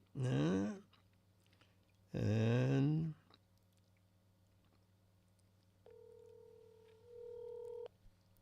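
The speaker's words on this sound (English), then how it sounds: "I'm going to put up a picture of George and then phone him" Several telephone keypad tones sound in sequence as a call is placed, the pure dialing beeps clear and moderately loud after two short bursts of speech.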